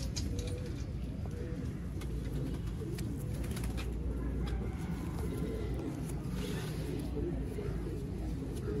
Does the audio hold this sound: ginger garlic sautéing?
no